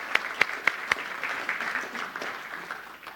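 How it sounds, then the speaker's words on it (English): Applause for sponsors at a national apprenticeship awards ceremony, opening with a few distinct sharp claps, then a moderate spread of clapping that gradually thins and fades. "Let's give them a nice big clap as well"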